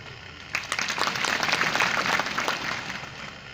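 An audience at a district gathering in Bastar breaks into clapping after a short lull, a burst of applause that swells, holds for a couple of seconds and then fades.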